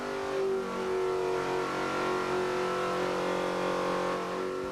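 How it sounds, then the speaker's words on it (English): A NASCAR Winston Cup race engine runs on a dynamometer, a loud, steady, close mechanical roar holding a constant high-pitched drone without a break. "the engine is pulled and put on the dynamometer"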